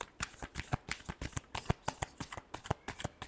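Tarot cards are shuffled by hand in a quick, even riffle, a rapid series of crisp papery flicks repeating steadily throughout, close and clear with no talking.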